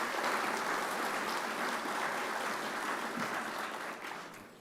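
An audience at a business ethics awards event applauds sponsors, a steady, moderately loud wash of clapping that holds for several seconds and tapers off at the end, with no talking over it.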